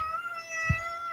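A single short cat meow indoors, brief and fairly close over a faint steady background hum.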